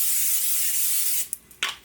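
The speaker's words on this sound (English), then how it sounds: "I do have to spray. It's the Carlini olive oil spray." Olive oil cooking spray hisses steadily into a pan for over a second, close and loud, then cuts off and gives a couple of short bursts.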